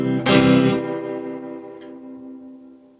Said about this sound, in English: The reverb goes on and on.